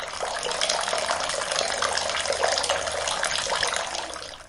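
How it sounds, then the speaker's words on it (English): Hot water gushes from a tap into a bucket, a loud steady close-up pour of rushing, splashing water filling the container with nothing else heard. "turn on the tap or faucet to pour hot water into a bucket"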